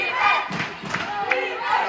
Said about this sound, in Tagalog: Ayan na po ang crowd.